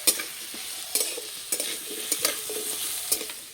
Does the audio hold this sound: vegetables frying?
yes